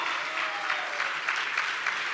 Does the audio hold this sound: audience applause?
yes